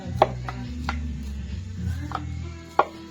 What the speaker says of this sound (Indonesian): Umbi gadung yang dibersihkan dan diiris tipis-tipis.